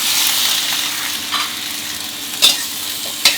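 Garlic chive flowers are stir-fried in a hot pan with soy sauce, sugar, pepper and a splash of water, giving a steady loud sizzle with occasional sharp scraping stirs, no talking.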